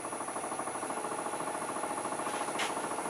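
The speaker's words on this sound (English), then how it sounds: "First thing we're going to do is true up the rim, and for that I'm going to use a 1/2 inch bowl gouge." A wood lathe spins a bowl blank while a 1/2 inch bowl gouge trues up the rim, giving a steady rapid rhythmic chatter with a constant high whine, close and continuous throughout.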